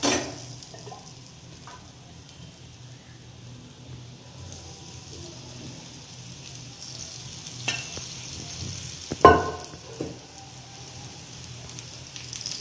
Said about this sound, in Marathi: दोन्हीकडून आपल्याला चांगल्या प्रकारे जोपर्यंत असा लाल ब्राउनिश कलर होत नाही आपला, तोपर्यंत मला फ्राय करायचं आहे.